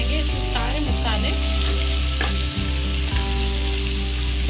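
Mutton liver pieces fry in a pan with a loud, dense, continuous sizzle close up, broken by a few clinks and scrapes of a stirring utensil, no talking.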